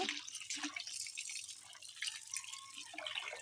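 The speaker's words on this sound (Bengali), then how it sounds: "তো এখন পাস্তাগুলোকে ভালো মতো পানি দিয়ে ধুয়ে নেব" Boiled pasta rinsed under cold running water gives a faint, uneven trickle and splashing with small drips, recorded quietly up close without any talking.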